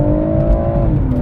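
A 2018 BMW M140i Shadow Edition with a 3-litre engine and automatic gearbox revs hard on kickdown, its exhaust giving a loud, close, rising roar with a steady climbing tone.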